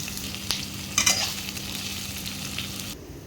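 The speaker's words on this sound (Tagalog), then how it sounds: "Oil sa pan, painitin, ilagay ang sibuyas," Onions sautéing in hot oil in a pan, a steady close sizzle with a few sharp scraping stirs near the start, then a sudden drop to near quiet at the end.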